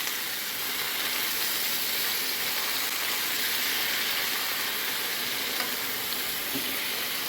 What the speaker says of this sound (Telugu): ఇప్పుడు పుంటి కూర వేసి ఫ్రై చేద్దాం ఇదండి పుంటి కూరను నూనెలా ఫ్రై చేద్దాం